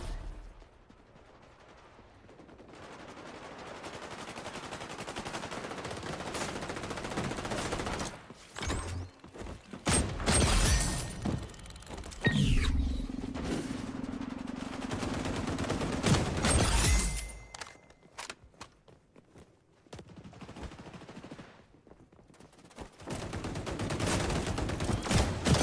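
Gunfire from the video game XDefiant comes in dense bursts and rapid volleys with mechanical clatter, rising and falling between bursts, with quieter stretches near the start and end.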